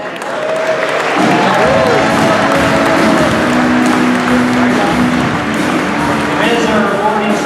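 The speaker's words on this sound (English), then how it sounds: "let's give them that round of applause" Steady applause from an audience at a small business awards ceremony, loud and sustained for the whole stretch, with a voice talking over it and a low tonal hum running underneath.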